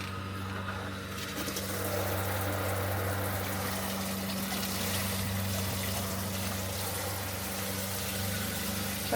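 An RV's onboard water pump runs steadily with a low, constant hum and motor drone, joined by a light trickle of water spilling into a bucket on the ground.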